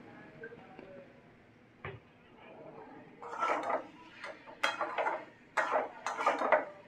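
Fried potatoes and elephant foot yam being stirred in a pan for a Bengali ol curry, with intermittent metallic scrapes and clinks of the spatula against the pan over a faint background.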